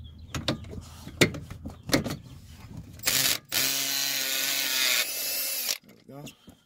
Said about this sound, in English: I'm gonna use my Milwaukee drill because I already have it set up.